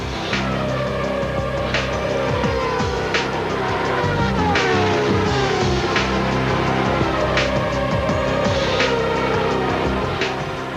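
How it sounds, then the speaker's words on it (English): McLaren Formula One race car at speed on a track, a dense continuous engine roar with repeated sharp high-pitched surges as cars pass, loud and sustained throughout with no talk. "While Senna continues to fight it out on the track, the team is in with a chance."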